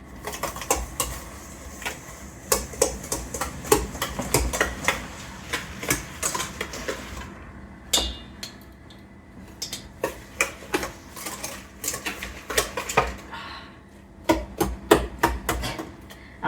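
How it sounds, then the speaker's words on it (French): Eggs being stirred in a bowl, a run of quick sharp clinks and taps of utensil against the bowl in an uneven rhythm, close and fairly loud, with a short pause partway through. "On va remuer les œufs."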